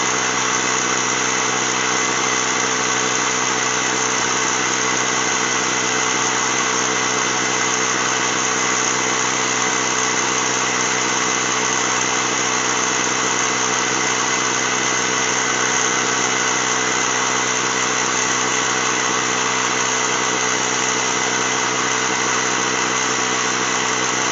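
A Ryobi ONE+ 18V mini compressor running continuously while inflating a tire, a loud, steady buzzing motor hum with even vibration and no pauses, close up and alone.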